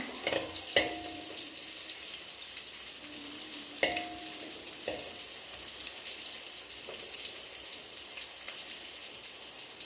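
Onions frying in RKG ghee on a stovetop give a steady, quiet background sizzle with a few soft clicks and light ticks, no voices present.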